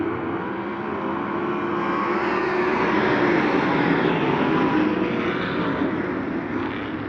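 Sprint cars racing three wide on a dirt track at a preliminary event, a loud continuous engine roar that swells and fades slightly as the pack passes, with no one talking.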